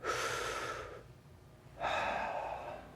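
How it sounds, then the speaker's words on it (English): Two slow, deep breaths, each a long airy inhale or exhale lasting about a second, close and clear with a short pause between them. "Take a deep breath."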